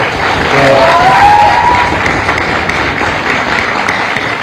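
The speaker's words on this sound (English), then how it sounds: "we should give a big round of applause to all of them" Applause and crowd noise fill the space, a steady wash of clapping and cheering heard at a moderate distance without pauses.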